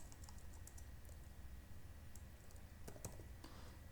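Keys clatter on a computer keyboard as an Angular CLI command is entered, a quiet run of quick taps and clicks with a couple of sharper strokes near the end.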